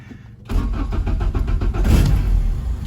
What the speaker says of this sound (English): Let's get this thing to start real quick so we can warm it up